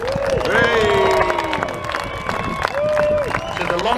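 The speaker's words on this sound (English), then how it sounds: "Let's give a great big Helmsley cheer. Hooray!" Crowd at a Helmsley motorcycle stunt show cheering and clapping for the Purple Helmets stunt team, a broad roar of voices and applause under an announcer's loud talk and whistling tones.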